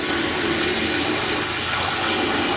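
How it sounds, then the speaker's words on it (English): Water rushes steadily into a bucket of walnuts, a dense, loud, even pouring hiss that fills the whole short stretch. "So I put in enough water to make everything"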